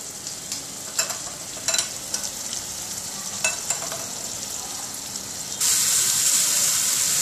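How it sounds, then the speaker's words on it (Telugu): A garlic and onion paste sizzles in a hot pan for a shark curry while a spoon scrapes and stirs it in several short, distinct strokes. Near the end the frying swells into a louder, steadier hiss. "కొంచెం సేపు బాగా వేగనివ్వాలండి ముద్దని, వెల్లుల్లి"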